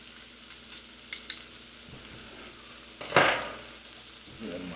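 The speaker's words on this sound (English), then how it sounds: "I'm getting ready to add this meat into, well, the chili mixture itself." Meat tipped into a pot of homemade chili on the stove, with a few light utensil clinks, then a louder scrape and stir against the pot over a soft background sizzle.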